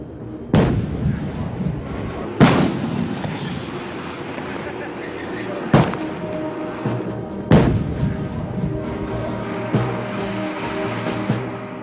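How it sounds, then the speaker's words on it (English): A South African G6 self-propelled howitzer fires during a demonstration. Four heavy booms sound at intervals, each followed by a rolling rumble, heard from a moderate distance with faint background noise between the shots. "The firepower of the G6 is tremendous, as evidenced by this demonstration."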